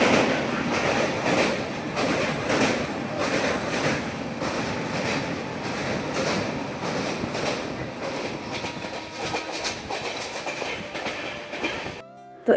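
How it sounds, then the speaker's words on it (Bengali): Train at a station, about to depart for Vrindavan, rumbling and clattering close by with rhythmic rail clicks that slowly fade, ending abruptly. "তো এখান থেকেই কিন্তু বৃন্দাবনের ট্রেনটা ছাড়বে।"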